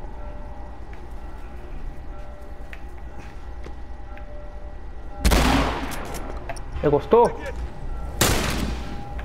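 A couple of sharp, loud gunshot bursts from The Last of Us Remastered cut through a low background hum, with a brief muffled voice between them and another blast near the end.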